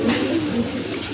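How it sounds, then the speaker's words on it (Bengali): A pair of satin pigeons at a bird market giving low, throaty coos, close and fairly loud, in one continuous rolling phrase with no talk. "দেখেন খুবই চমৎকার এক জোড়া কবুতর"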